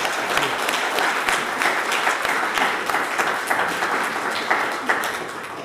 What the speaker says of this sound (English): a big round of applause to our three excellent speakers for your remarks.